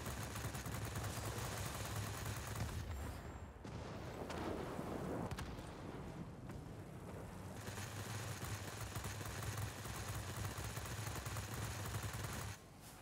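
Aircraft machine guns rattle in Warplanes, long sustained bursts of rapid fire broken by short pauses, fairly faint in the mix and steady for most of the stretch.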